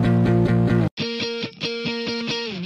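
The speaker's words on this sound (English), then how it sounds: "Super scratchy, early 2000s guitars." Scratchy, heavily distorted electric guitars in an early-2000s rock style play chopped, rhythmic chords that cut out briefly before resuming, loud and up front with no voices.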